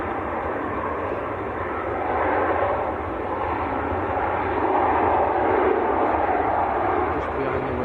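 An airliner taking off at Manchester Airport, a broad steady jet roar that swells slightly midway, heard from a distance without voices.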